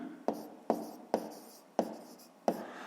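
A pen writes out a maths working on paper in five short scratchy strokes, each a sharp tap that trails off, evenly spaced and close, with no talking over them.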